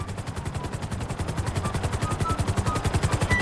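A helicopter in the video game GTA V thumps with a steady, rapid rotor chop over a dense engine whine, loud and close throughout with no pause.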